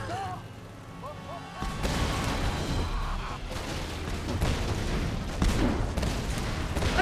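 Enemy gunfire in the video game Tomb Raider: heavy booms and crashing barrages break in loudly after a quieter start, with rapid impacts continuing close by.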